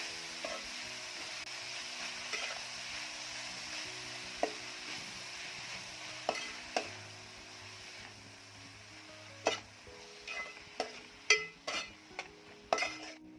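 Coarsely chopped fenugreek (methi) leaves stirred in a hot pan with onions, giving a continuous gentle sizzle broken by sharp spoon clinks and scrapes against the pan that grow more frequent toward the end.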